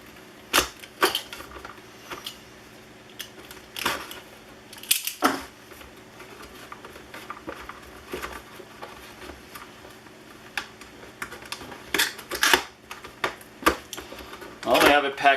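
Unboxing a Kreg pocket hole jig: close, scattered plastic clicks, crinkles and tearing snaps from stiff packaging, irregular bursts over about fifteen seconds with quiet gaps.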